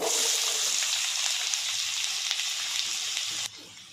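Finely chopped onions fry with cloves and a piece of cinnamon for a cauliflower curry, giving a loud, bright sizzle throughout that cuts off sharply near the end.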